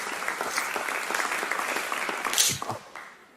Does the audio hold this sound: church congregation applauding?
yes